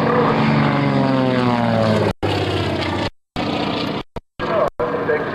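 A propeller aerobatic airplane flies a slow roll at an Air National Guard open house air show, its engine droning loud and steady with a shifting pitch, cut by several brief dropouts near the end.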